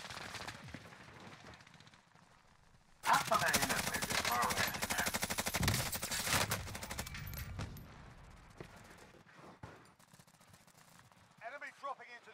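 A Bruin machine gun fires tracer rounds in a shooter game: a loud, dense, rapid burst of several seconds starts abruptly after a quiet stretch, then trails off into scattered shots, with a voice talking around it.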